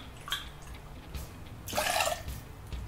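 Sloe gin poured into a small measure, heard as a brief trickle of liquid followed by a longer splashing pour, close and fairly quiet over low background noise.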